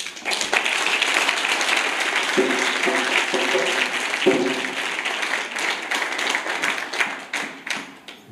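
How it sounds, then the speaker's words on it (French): A gathering at a Senegalese school claps for a man honored for twenty years of youth service, a dense round of applause lasting eight seconds, interrupted by a few short tonal bursts and ending in scattered claps. "je veux qu'on applaudisse pour lui"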